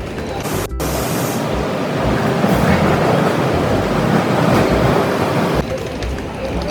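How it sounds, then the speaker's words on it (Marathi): A Jodhpur-bound train pulls into a station, its broad steady rumble and rolling noise filling the scene loudly and continuously, with a brief dip near the start. "जोधपूर ट्रेन आलेली आहे"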